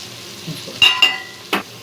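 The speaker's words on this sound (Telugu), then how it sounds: "మగ్గనిద్దాం టమాటా ముక్కలు మగ్గిన దాకా" Tomato pieces cooking down in a pan for a gongura curry, with a few sharp utensil scrapes and clinks over a faint, low sizzle.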